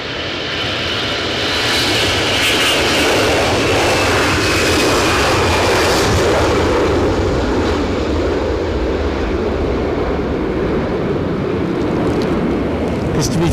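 An airliner at Edinburgh Airport during a storm with gusty wind, a loud, sustained jet engine roar that swells and holds, heard at a distance with some voice faintly mixed in.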